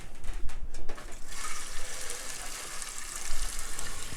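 Tap water runs into a container in a kitchen, a steady hissing gush that starts after a few brief splashes and continues evenly, close and moderately loud.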